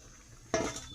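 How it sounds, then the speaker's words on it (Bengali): Water splashes into a cooking pot of chicken being braised, a short sudden pour starting midway with a liquid hiss and clatter over quiet kitchen background. "এবার একটু জলও দিতে লাগবে, কষানোটা মনে হয়ে গেছে, জল দিয়ে দিই।"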